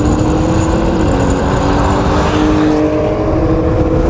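A Ford F150 truck with all-wheel drive accelerating hard in a street race, its engine roaring loud and steady at close range, the pitch climbing and shifting, with tire noise underneath and no talking.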